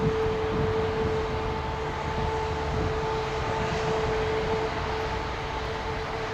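An aircraft landing on runway 09 left at London Heathrow, a steady loud jet engine roar with a sustained whine, constant and near throughout with no talking.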